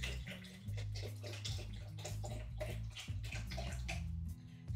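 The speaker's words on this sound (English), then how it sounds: "I'm going to top up my steamer." Water poured into a clothes steamer to top up its tank, a steady splashing fill lasting several seconds, heard loud and close.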